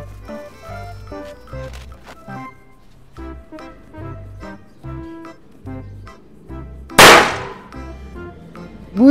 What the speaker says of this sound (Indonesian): kita mau main petasan korek dulu nih